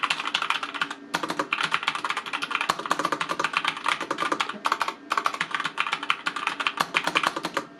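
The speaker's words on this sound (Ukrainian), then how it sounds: "Бладі S510N це клавіатура на роки." Bloody S510N mechanical gaming keyboard typed on continuously at close range, dense clacking keystrokes in a fast uneven rhythm with a couple of brief pauses, no talking.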